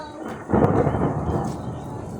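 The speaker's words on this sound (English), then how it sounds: "There's so heavy rain. You guys, do you hear that?" A heavy rainstorm hisses steadily, then a loud, close thunderclap booms in about halfway through and rolls on under the downpour.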